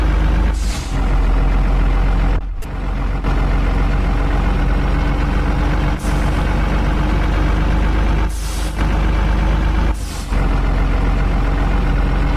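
A large car transport truck in a truck simulator video game drones with a loud, constant engine rumble, broken by several short hissing air-brake bursts, with no voices.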